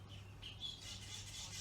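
Outdoors, a bird gives a few faint, short high chirps over a quiet, steady low hum from a pool cleaner running in the background.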